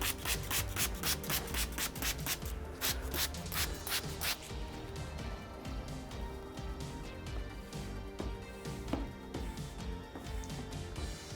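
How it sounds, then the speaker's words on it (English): Squeegee rubbing paint protection film onto a Tesla Cybertruck bed side panel, a rapid series of sharp, close scraping strokes that settles into steadier, softer rubbing, no voices. "I'll give it our final squeegee, and then that'll be a wrap on this panel."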